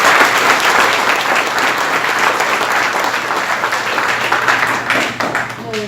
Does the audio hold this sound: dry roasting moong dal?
no